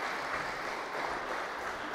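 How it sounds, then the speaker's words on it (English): A church congregation applauds during a Sunday service, a short, soft burst of even clapping heard at a distance. "I think we should give them a round of applause"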